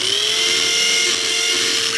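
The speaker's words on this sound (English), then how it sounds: "We're going to drill holes now for the thing to go." A power drill boring a hole for a plug back box gives off a loud, steady, high-pitched whine, close up and unbroken, with no talk over it.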